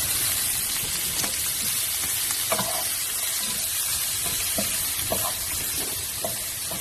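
Onion fries in a pan for pasta with a steady, loud sizzle and hiss, broken by occasional clicks and scrapes of stirring.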